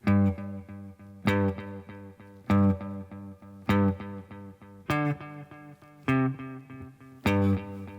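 Electric guitar chords struck at a steady pace through an echo effect, each one repeating over and over as it fades, with no talking.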